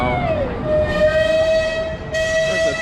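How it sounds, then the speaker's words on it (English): An amusement park train at Knott's Berry Farm rolls by with a steady, loud mechanical rumble and a sustained whistle-like tone, no talking over it. "There's a train."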